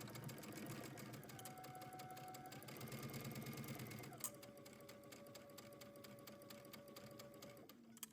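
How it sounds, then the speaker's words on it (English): A sewing machine runs steadily, stitching the shoulder seams of a house dress from the underarm edge to the neckline, with a continuous mechanical whir and a brief pause partway through before it resumes. "Then we're going to sew the shoulder seams from the outer edge where the underarm is all the way over to the inner edge where the neckline is"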